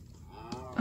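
A cow moos in the Minecraft video game, a single low, drawn-out call that swells toward the end, close and clear, with no speech.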